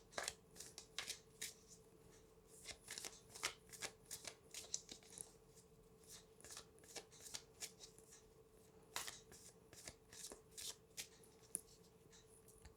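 Oracle and tarot cards being shuffled by hand, a quiet run of quick papery riffles and flicks that repeat irregularly throughout, close and soft with no talking.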